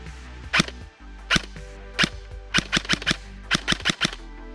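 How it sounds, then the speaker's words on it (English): A CYMA Platinum SMG9 airsoft gun dry-fired with a flat-face trigger and MOSFET, giving a series of sharp, snappy clicks: single shots, then quicker bursts in an uneven rhythm, close and clear over a quiet background. "Let's get some dry fire shots to feel this trigger."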